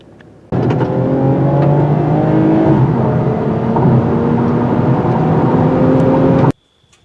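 A 2022 Toyota Camry TRD cruising on a dark rural road at night, a steady engine hum and tyre roar holding even from start to finish, with a slight rise and fall in pitch and no voices.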